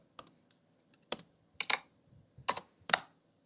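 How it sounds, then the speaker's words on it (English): Sparse computer keyboard key clicks recorded close on an iPhone, a handful of separate taps and short clusters with quiet pauses between them. "I recorded the click sound, this typing sound, all I recorded after shooting."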